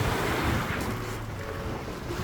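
Rough waves slap against the hull of a Beneteau sailboat at sea, a continuous broadband wash of water and wind noise, loud and close without distinct separate impacts.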